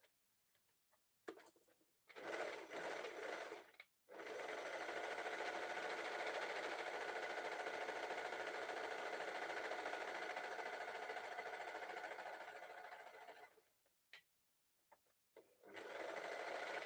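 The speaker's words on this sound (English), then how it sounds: "So I'm just going to overlock this end so it has a nice finish." An overlocker finishes the raw end of a fabric turban with a steady, loud mechanical whir that runs for about ten seconds. Short bursts of stitching come before and after it.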